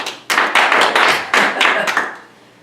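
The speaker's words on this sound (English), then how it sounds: "round of applause." Scattered clapping from a small audience at a magic show, a handful of sharp close bursts of hand claps that quickly thin out and fade.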